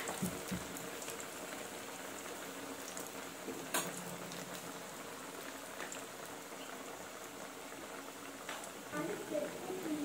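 Onion vadas deep-frying in hot oil, a steady crackling bubble and sizzle running throughout at moderate level with a brief sharper pop partway through.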